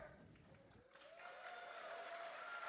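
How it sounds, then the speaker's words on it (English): Applause from a live podcast audience in Iowa City, fairly quiet and distant at first, then swelling into steadier clapping as a tone hums underneath. "Let's do a round of applause."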